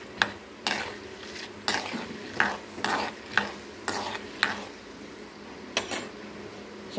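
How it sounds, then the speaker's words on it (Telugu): Mustard and other tempering seeds sizzle and crackle in hot oil for tamarind rice, with a steady close fry broken by repeated sharp spoon-against-pan stirring clacks at irregular intervals; no talking. "ఇదిగోండి నూనె కాగింది, తాలింపు గింజలు అన్నీ వేసేసుకుంటున్నాను."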